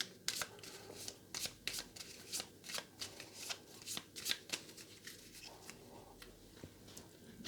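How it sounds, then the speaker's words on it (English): A deck of board game cards shuffled by hand, a rapid run of crisp riffling snaps and ticks close up, repeating steadily with no talking. "So we'll give those a shuffle."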